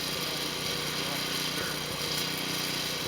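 Snow blower engine that has been flooded, droning at a steady, fairly loud level through a blizzard, with people talking over it.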